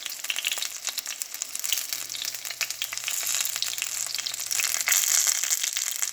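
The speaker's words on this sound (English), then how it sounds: "so I finished frying all the fritters" Steady crackling sizzle of corn fritters frying in hot oil, continuous and close, with bright spattering pops throughout and no voices.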